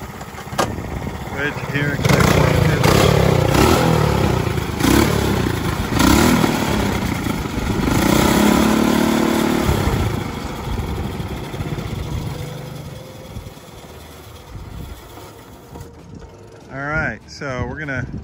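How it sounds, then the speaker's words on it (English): Go-kart engines warm up on test stands, a loud, steady engine drone running through most of the span with slight rises and falls before dropping away near the end, while someone speaks briefly over it. "we're in the process of warming these carts up a little bit here on the stands"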